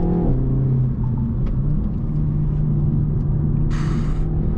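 Renault Megane 4 RS Trophy facelift hot hatch accelerating hard through a bend, a loud, steady engine drone heard from inside the cabin, rising slightly in pitch, with a brief high-pitched squeal near the end and no talking.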